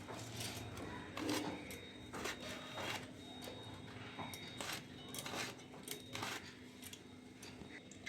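A knife peeling and trimming the ends of a ridge gourd in a home kitchen, faint soft scraping and light taps on the vegetable over a steady low background hum, with a few sharper clicks.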